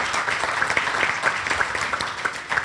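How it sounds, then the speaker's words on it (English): A crowd at a Tiger Bay Club of Manatee law enforcement luncheon applauds its panelists. The clapping is dense and continuous throughout, close and fairly loud. "Would you please give them a round of applause for coming out today?"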